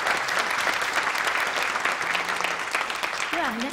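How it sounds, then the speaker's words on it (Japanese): Sustained audience applause at a flood disaster forum in Kurume, Japan, steady and dense throughout, with a voice briefly speaking over it near the end. "もう一度盛大な拍手をお送りください。"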